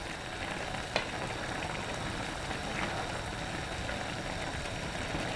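Finely chopped mushrooms fry in a home-kitchen pan with a steady, close sizzle and faint stirring, plus one brief sharp click near the start.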